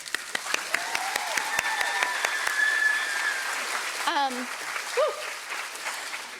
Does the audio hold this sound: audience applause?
yes